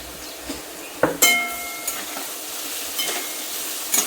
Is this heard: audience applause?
no